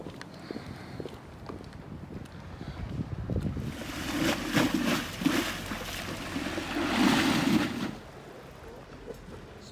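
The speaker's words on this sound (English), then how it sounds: "Some big waves there" Waves on the River Mersey near Liverpool lap and wash along the shore with steady wind noise on the microphone, swelling louder in the middle of the clip, with no speech.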